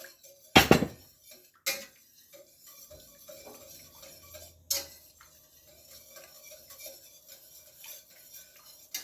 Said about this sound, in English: So I am just gonna stir, let the flour cook.